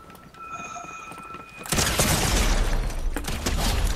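Gunfire in an online shooter video game erupts suddenly after a quiet stretch, a dense, loud burst of shots and blasts that keeps going to the end.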